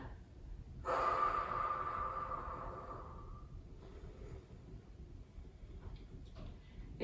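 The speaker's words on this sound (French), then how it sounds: "Laissez votre respiration revenir à la normale." A person catches their breath after a gym exercise session, with a loud sharp gasping inhale followed by a long drawn-out exhale, then quieter, slower breathing settling down over several seconds.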